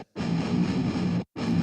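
A DI electric guitar signal blended with an amp tone plays two distorted, sustained chord hits, each cut off abruptly by a brief silence, in an instrumental mix.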